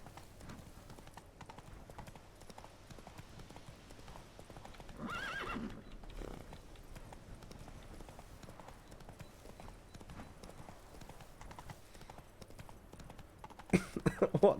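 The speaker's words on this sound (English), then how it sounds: "Whoa there, Roach" A horse in the Witcher 3 video game gallops with steady clip-clop hoofbeats throughout, then neighs loudly near the end, with game ambience underneath.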